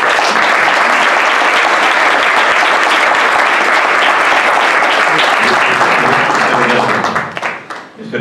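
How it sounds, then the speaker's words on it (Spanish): Loud, sustained audience applause at an innovation lecture, given as a tribute, fills the hall evenly for about seven seconds before tapering off at the end. "un fuerte aplauso en memoria de Javier"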